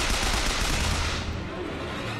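Sniper gunfire in the video game BioShock Infinite: a loud, continuous wash of shots and explosive game noise that eases slightly toward the end, with no voices.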